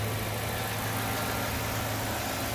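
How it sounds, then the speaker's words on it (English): A car engine runs at a steady idle with a low, constant hum and broadband noise, close and unbroken, with no talking. "Start the engine, voila."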